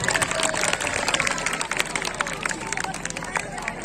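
An audience at an Urdu mushaira breaks into dense applause, rapid clapping mixed with crowd murmur and some cheering, close and steady for a few seconds.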